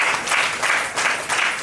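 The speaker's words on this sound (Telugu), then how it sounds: "చప్పట్లు కొట్టి ఆయనకు వందనాలు చెప్పి." A gathering at a house-warming ceremony applauds, a steady, full burst of many hands clapping with gently pulsing swells, close and even throughout, with no speech.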